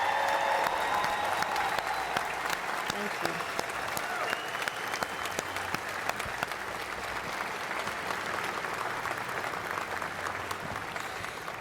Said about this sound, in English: you all join me in giving these folks a big hand clap of appreciation